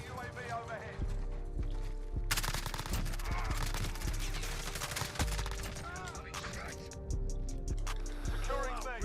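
Bursts of automatic gunfire in a Modern Warfare multiplayer match with an MP7 setup, sharp loud volleys mixed with game sounds and overlapping voices, continuing through most of the stretch.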